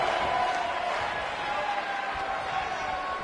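An arena crowd at a WWE tag team match sends up a sustained roar of cheering, with a commentator talking over it.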